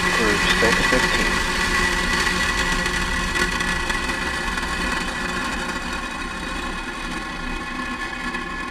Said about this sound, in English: 4, 3, 2, 1, ignition. We have liftoff.